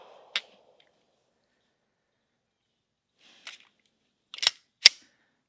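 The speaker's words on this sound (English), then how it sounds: "minus that failure to feed on the very first bullet, that's a fine shooting pistol" Sig P365 Fuse pistol shots, four sharp distant cracks: one early, then after a long silence three more in quicker succession, fairly faint and with no talk.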